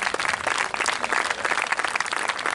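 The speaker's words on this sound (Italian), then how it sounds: "E quindi un grandissimo applauso." Dense, steady applause from a sizable audience at an outdoor dawn concert on a beach, many hands clapping continuously at full strength throughout with no voices standing out.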